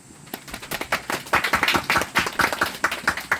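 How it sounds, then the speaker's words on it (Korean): An audience claps for a council member at a residents' meeting about stray dogs, a dense burst of many hands striking together at close range, rising quickly and holding steady for several seconds. "신해찬 의원에게 박수 한번 쳐주십시다."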